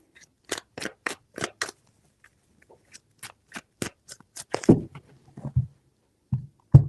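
Tarot cards being shuffled in quick bursts of crisp riffling snaps, several rapid clusters separated by pauses, close and fairly quiet, followed by soft handling thumps.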